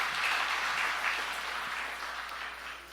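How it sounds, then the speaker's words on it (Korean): Steady congregation applause of thanks in a church during an early-morning prayer service, a dense, even wash of clapping that tapers off slightly toward the end. "서로 감사의 박수, 하나님께 감사의 박수 하도록 하겠습니다."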